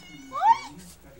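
A single short, high meow from a kitten, close and clear, rising then falling over about half a second.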